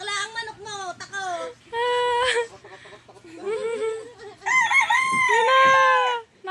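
A rooster crows loudly several times in close succession, with strained, wavering calls and brief clucks between them, close to the listener.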